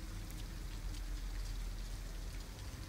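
Steady rain pours in the Detroit: Become Human video game, a dense, even patter with no pauses that stays fairly quiet throughout, with no voices over it.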